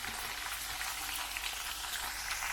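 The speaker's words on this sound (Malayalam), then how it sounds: "കുറച്ച് പച്ചമുളകും ഉണക്കമുളകും അത് വറുത്തെടുക്കുന്നുണ്ട് ചെറിയ തീയിൽ" Slit green chillies and dried red chillies fry in hot oil on a low flame for Kerala-style chicken dry roast, giving a steady, soft, continuous sizzle and crackle with no talking.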